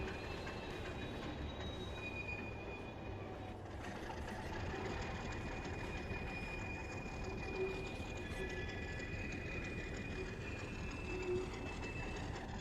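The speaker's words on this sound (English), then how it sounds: "I guess my only complaint with the wheel squeal is that even after the train stops moving, it's still kind of making noise." A model train on a layout running with a constant rumble, thin high wheel squeals drifting in and out over a steady mechanical whir.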